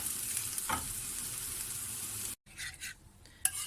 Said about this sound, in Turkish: Havuçlarımı iyice kavurdum.